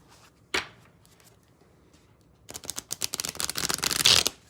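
Tarot cards are shuffled in a quick riffle of rapid, crisp flutters after a single soft slap, close and fairly quiet.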